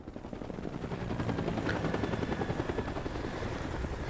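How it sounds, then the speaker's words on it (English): Helicopter at the close of the video game Resident Evil 5, a steady, loud, continuous rotor chop and engine drone that stays constant throughout with no talk. "Helicopter, Resident Evil at the end, of course."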